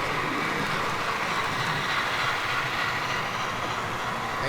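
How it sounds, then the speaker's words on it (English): An HO scale model train runs along a layout, producing a steady, continuous rolling and rattling noise at moderate level from start to finish. "If this wasn't enough trains coming at you, here's some more from a different angle."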